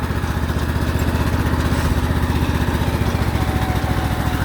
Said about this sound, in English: this lawnmower does not have a deck